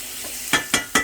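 Bacon frying in a pan: a steady hiss of sizzling grease broken by three quick, evenly spaced scrapes or taps of a utensil, close by with nobody speaking.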